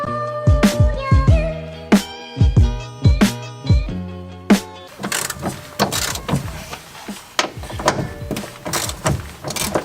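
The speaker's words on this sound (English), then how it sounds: "you just need a 17mm socket to take the nuts off of your strut mounts" A hand ratchet with a 17mm socket works strut mount nuts loose on a car, a run of loud, close clicking bursts in uneven rhythm, followed by denser, rapid ratcheting and metallic rattles.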